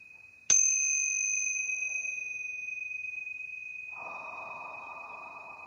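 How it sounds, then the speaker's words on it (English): A single strike on tincture bells rings out clearly, a pure sustained tone that slowly decays over several seconds, joined near the end by a soft breathy noise. "I'm going to ring the tincture bells to clear out any lower vibration"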